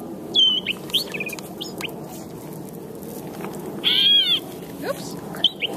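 In the Great Swamp, a bird gives short bursts of sharp, whistled chirping calls, several separate phrases spaced a second or so apart. The calls are near and clear over a soft background hum.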